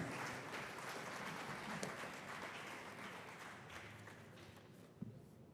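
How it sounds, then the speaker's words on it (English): Soft, dense applause from an audience at a university summer school closing ceremony, a steady faint wash of many hands clapping with a couple of sharper claps standing out, no talking over it. "With a round of applause, let's welcome Dr. Ama Amwesi, College of Health Sciences."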